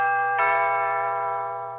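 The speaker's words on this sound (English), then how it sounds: "Ding dong, we got somebody at the door." Electronic doorbell chime at a home, a single clear tonal ding that rings out and decays slowly, heard close and alone with no talking.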